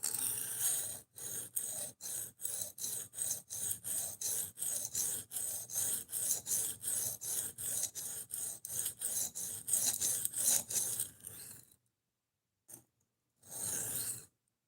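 A knife is stroked on an aggressive sharpening plate in a fast, steady series of rasping passes, around two per second, close and loud. Two or three more strokes follow after a short pause.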